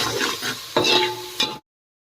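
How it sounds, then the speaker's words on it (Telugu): A spoon stirring a spiced onion-tomato mixture with coriander powder and garam masala in a pan, a couple of scraping strokes over a soft sizzle, close and brief before cutting to silence. "మంచిగా మిక్సీ వేసుకుందాం"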